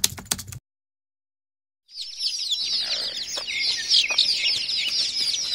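A flock of desi chickens and chicks clucks and cheeps continuously in a backyard coop, loud and close, after a short noisy burst and a quiet pause.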